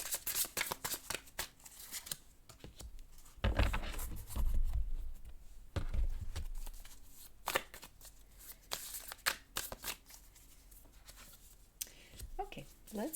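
Tarot cards being shuffled in repeated soft riffling bursts and slaps, close and quiet, with brief pauses between handfuls and faint talking at times.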